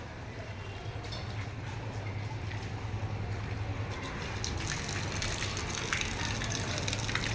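Water gushes steadily onto garden plants in a continuous splashing wash that grows slightly louder toward the end, with a low hum underneath and occasional voices.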